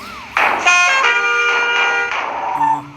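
A series of loud, sustained bus horn blasts in a bus simulator video game, a steady tonal blare cutting in and out over a couple of seconds, followed by a lower horn note.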